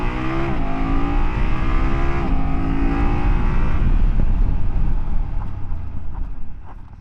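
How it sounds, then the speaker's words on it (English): A 2024 BMW F800GS motorcycle pulls hard from a standstill toward 70 mph, its engine climbing through several gear changes under loud wind rush, then easing off as it brakes and fades near the end. "let's do some 0 to 70 mile an hour to 0 acceleration and braking test"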